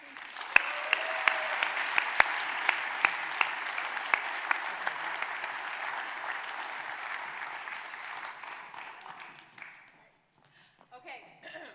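Sustained audience applause from a crowd at a Festival of Lights event in Los Angeles, dense clapping with a few sharp claps standing out. It holds steady for about eight seconds, then thins and fades to scattered claps.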